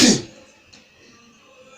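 A single sharp sneeze bursts out loudly at the start, close by, then fades into a quiet room with faint low background noise.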